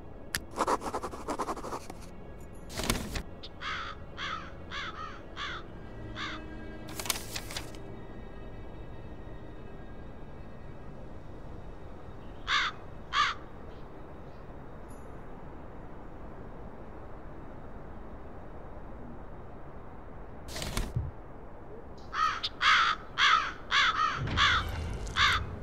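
Harsh raven caws from the video game Black Mirror 3 come in scattered bursts over quiet ambience: a quick run of six calls early, a pair midway and a dense volley near the end, mixed with a few broadband scratching noises and no talking.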